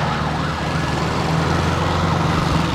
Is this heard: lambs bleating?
no